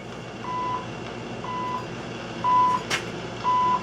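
Shortwave time signal station on 15 megahertz, evenly spaced short pure tone pips about once a second over steady hiss and static from a Knight communications receiver, with a brief crackle of interference.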